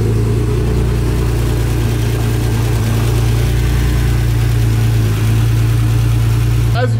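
A Nissan GT-R tuned to 1000 horsepower idles loudly and steadily up close while warming up, a constant low hum throughout with a brief voice at the very end.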